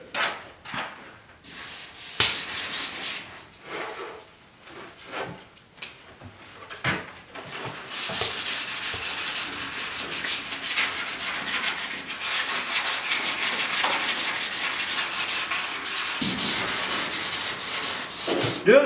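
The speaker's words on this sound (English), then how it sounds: "Doing the final sand is it's a real pain, but you just gotta take your time" Hand sanding on the cab of a 1972 Ford 4x4 short box truck during prep for paint, first in short separate scrubbing strokes, then settling into steady, continuous rasping rubs that grow louder and denser, with no talking.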